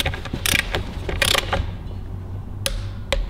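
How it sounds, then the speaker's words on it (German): Torque wrench tightening bolts on a Golf 5 R20 track car under repair, giving a few sharp metallic ratchet clicks and clunks, bursts near 0.5 and 1.3 seconds and two short clicks near the end, close up with no talk. "Jetzt haben wir alle mit Drehmoment angezogen, das ist soweit zusammen."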